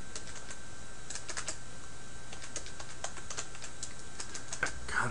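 Someone types on a computer keyboard in quick irregular bursts of soft, close key clicks over a faint steady background hum, with no talking.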